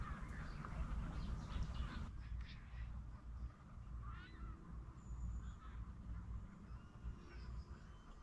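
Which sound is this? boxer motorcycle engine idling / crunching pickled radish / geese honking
geese honking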